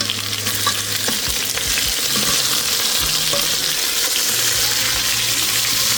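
Oxtail browning in a hot pan gives a steady, close sizzle of frying meat throughout, with occasional stirring scrapes and low clunks as pieces are moved.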